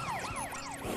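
A wailing siren alarm from the Final Fantasy XIII video game, rapid sweeping rising-and-falling tones repeating several times in one second, fairly faint and alone with no talk.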